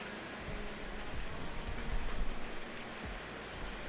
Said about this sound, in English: The rain is just starting to pick up as well.